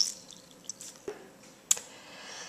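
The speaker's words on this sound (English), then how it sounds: "we're going to start squeezing the water out" Water drips and trickles as a wet BeautyBlender makeup sponge is squeezed over a bowl, with a few sharp splashes and small clicks against a quiet background.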